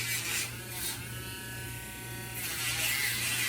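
An electric nail dremel buzzes continuously at close range, a steady high whine that dips slightly in the middle and then picks up again.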